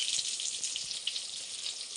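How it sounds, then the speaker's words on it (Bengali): Slices of brinjal fry in oil in a pan with a steady, hissing sizzle, a continuous bright crackle that stays even and close throughout, with no talking. "বেগুন ভাজা ভাজছি।"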